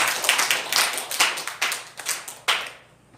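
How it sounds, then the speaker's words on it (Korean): A church congregation at a Sunday service claps together in a brief, fairly quick rhythmic burst of crisp handclaps lasting about three seconds before trailing off. "영광의 박수 올려드리겠습니다"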